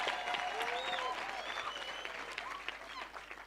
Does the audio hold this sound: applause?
yes